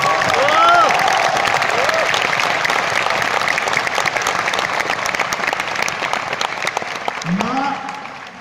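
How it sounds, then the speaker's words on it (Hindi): Loud, sustained applause from a large audience at a student motivational session fills the clip, with a few voices calling out over the clapping before it tapers off. "जोर से ताली बजा सकते हैं।"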